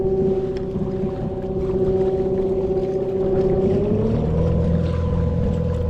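A Haswing W40 electric kayak motor on a PA12 kayak is cranked up to top speed, its steady high whine rising in pitch partway through over a constant low hum, with no talking.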